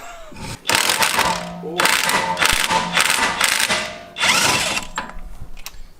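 Close and loud, an impact gun rattles in three long bursts on a Nissan Silvia hub nut, with short pauses between them and a final quick tap, alone in a garage.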